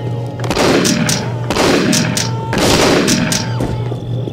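Shotgun blasts in the video game Postal 2, three loud booming shots spaced about a second apart, each followed by a decaying rumble, with no speech over them.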